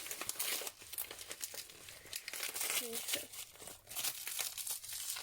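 Plastic packaging for a mailed parcel is unwrapped up close, with steady crinkling and crumpling and some short tearing sounds, while someone talks at times.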